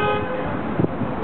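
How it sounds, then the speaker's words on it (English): A single short car horn toots loudly over a traffic background in city streets. "There's a lot of honking that goes on in this country, too."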